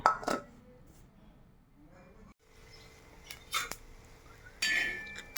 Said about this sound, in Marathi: भाजून घेतलेले दाणे हे कुटून घ्यायचे. असे हे असे फोडून घ्यायचे.